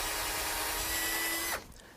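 A power drill whirs steadily and close during bark grafting of a walnut tree, holding one pitch for about a second and a half before it cuts off abruptly.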